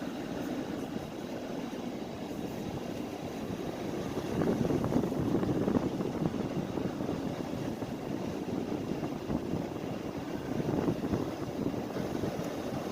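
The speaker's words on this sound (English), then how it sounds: "The air's on and the wind is blowing in here" A steady broadband rush of blowing air fills the space, low and constant, swelling a little louder midway through, with no voices.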